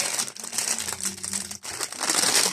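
Close, continuous crinkling and rustling of a plastic bag as a wind chime with dangling tubes is pulled out, with a brief pause partway through.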